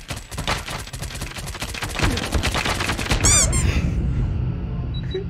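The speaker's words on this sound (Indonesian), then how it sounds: "Pura-pura nembak." Gunfire in Call of Duty Mobile, a fast volley of close shots for about three seconds, followed by a short metallic whine and then quieter game ambience.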